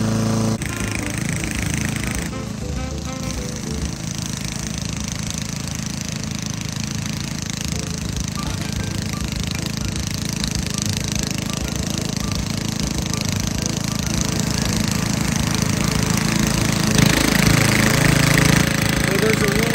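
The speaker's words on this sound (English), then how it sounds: "Mowing the lawn." A ride-on lawn mower runs steadily while mowing a lawn, its engine a loud, continuous rumble that barely changes throughout, with a voice talking over it at times.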